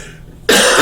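One sudden, loud, close cough from a man with a scratchy voice, breaking abruptly out of near silence and carrying on to the end.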